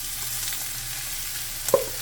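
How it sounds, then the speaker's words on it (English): Corn poured into hot grease in a frying pan and stirred, a soft steady sizzle with a brief scraping clatter near the end, heard alone. "And then you just pour all that good corn over in here and stir it good."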